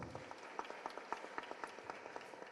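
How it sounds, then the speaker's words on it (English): Audience applause at a women-in-energy conference, a short burst of steady, fairly faint clapping from many hands. "Another round of applause."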